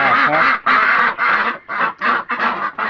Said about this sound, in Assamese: এইবিলাক মোৰ হাঁহ।